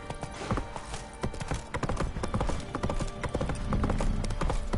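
Rapid, close hoofbeats of the horse Roach galloping in The Witcher 3, a busy rhythmic clatter of clip-clops that holds steady throughout, with no speech over it.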